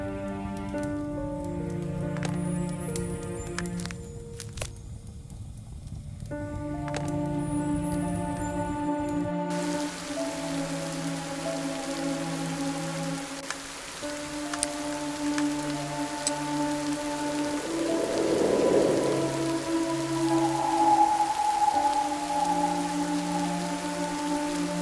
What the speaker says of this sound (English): Has the rain stopped?